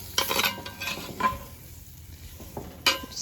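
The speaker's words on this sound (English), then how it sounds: "Just kind of stir it around." A flour roux being stirred in a Dutch oven over a Solo Stove: a spoon scrapes and clinks against the pot in a few short strokes, alongside a soft sizzle, with quiet pauses between strokes.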